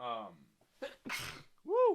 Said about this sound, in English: It was a sneeze